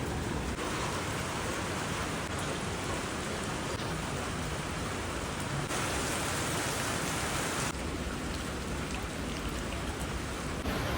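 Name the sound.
heavy rain in Manali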